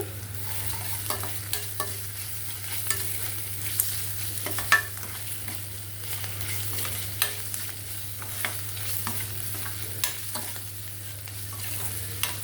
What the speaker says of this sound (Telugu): కొంచెం ఇలా ఫ్రై చేసుకోవాలండి అంటే అల్లం వెల్లుల్లి పేస్ట్ స్మెల్ పోవడం పోయేంత వరకు